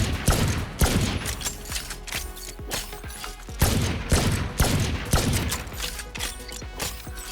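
Rapid bursts of video game gunfire from an Araxys Sheriff or Protocol 781-A crackle almost nonstop, loud and dense, with mechanical clatter between volleys.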